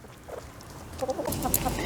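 Faint clucking from a few chickens, soft at first and growing busier near the end against a low background hum.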